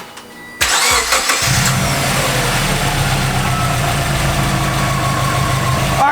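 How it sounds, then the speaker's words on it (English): A Subaru car engine cranks briefly and catches, then settles into a loud, steady idle close by with a continuous low rumble and no voices. "Now we have to start the car and turn everything on to full blast."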